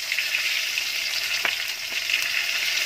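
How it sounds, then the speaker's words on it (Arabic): Floured chicken pieces fry in deep hot oil, a dense, steady hiss and crackle close by with a couple of faint knocks partway through. "انا عفرت الفراخ بتاعتي، بقى هروح على الزيت وهقليها"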